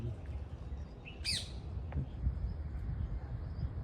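A single quick, bright bulbul call rings out briefly over a quiet, hushed village outdoor background.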